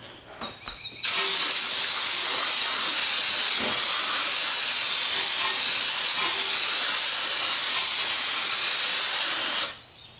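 A water spray rinses a 2016 Honda Accord during a hand wash, a loud, continuous hiss that starts abruptly, holds steady for about eight seconds, then cuts off.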